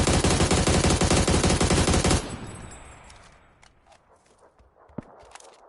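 Rapid automatic gunfire rattles loudly in PUBG for about two seconds, then cuts off. Softer, scattered shots and footsteps follow at a distance.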